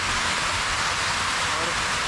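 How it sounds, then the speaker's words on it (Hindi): Steady rain hisses evenly in Kumrat Valley, a dense continuous patter with a low rumble underneath. "मुझे लगता है बारिश स्टार्ट हो गई है"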